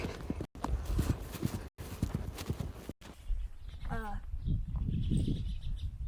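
A colt under saddle walks steadily, its hooves clip-clopping in an even, close rhythm while someone talks over it, with a brief high whinny-like call partway through.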